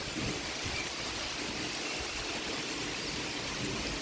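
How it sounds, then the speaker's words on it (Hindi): Rain pours onto the Narmada river in a steady, unbroken hiss of water that stays close and constant throughout, with no voices. "मैया पे देखो कैसे बारिश पड़ेगी।"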